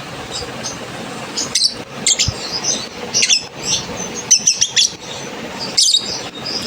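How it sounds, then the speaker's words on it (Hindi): Green Fischer's lovebirds with peach-colored faces chirp in short, bright bursts that come in several clusters, close by and over a soft, constant background hiss. "देखेगा इसी अपनी नस्ल वाले तोतों की वॉइस पे रिप्लाई कर रहा है।"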